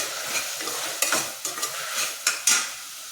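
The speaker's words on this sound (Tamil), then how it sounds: "புதினா ஒரு அஞ்சாறு இதெல்லாம் போட்டுக்கிறேன் அதையும் சேர்த்து வதக்கி விடுவோம்" Tomatoes and mint leaves sauté in a pan with a soft background sizzle, broken by several sharp scraping stirs of a spatula close by, with no one talking.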